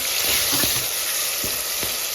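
Spices for moong dal tempering sizzle loudly in hot oil, a dense, close, steady hiss with a few brief crackles, no talking.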